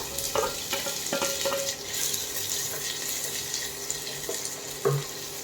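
Sliced onion fries in oil for idli pulivar kuzhambu, a soft sizzle running under occasional clinks and scrapes of a utensil in the pan, with a couple of sharper knocks near the end.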